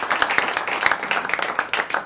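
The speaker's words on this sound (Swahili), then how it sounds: "Wapi makofi yao?" A studio audience claps in a quick burst of scattered, sharp hand claps that runs through the whole moment without any talking on top.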